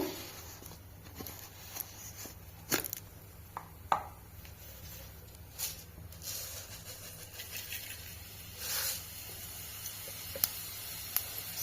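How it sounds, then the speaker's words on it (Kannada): Fennel seeds fry in hot oil for a village-style country chicken pepper roast, giving a faint, steady sizzle broken by scattered pops and crackles. "ಸೋಂಪು ಕಾಳು ಚೆನ್ನಾಗಿ ಫ್ರೈ ಆಗ್ತಾ ಇದೆ"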